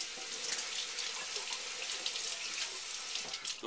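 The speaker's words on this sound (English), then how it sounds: "I'm going to add a little water." Water runs steadily from a tap into stuffing for a pork loin, a continuous close hiss and splash heard alone.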